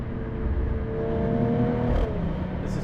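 A 2024 Mercedes-AMG E53 Hybrid accelerates, its engine note rising steadily in pitch with a smooth whir under a constant road rumble, heard from inside the car without talk.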